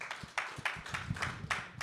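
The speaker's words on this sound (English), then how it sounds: "A big round of applause for Jason." Sparse applause from a summit audience greeting a panelist, a handful of claps spaced irregularly at moderate volume with some low thumps, no other sound.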